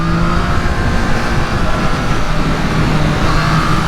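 Engine of a 2023 Triumph Trident motorcycle revving hard, a loud, close, continuous droning roar held at steady pitch.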